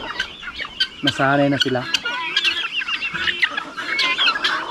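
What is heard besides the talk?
chickens clucking near guinea fowl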